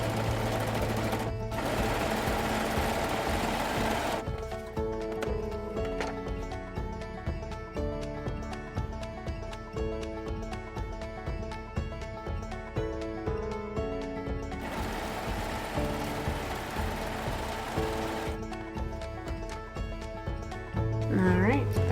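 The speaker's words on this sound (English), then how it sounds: "I'm going to use my serger, but you can also use your sewing machine for this step" A serger runs in fast, steady bursts along the short quarter-inch edges of a fabric reusable snack bag, loud and close, with brief pauses between runs.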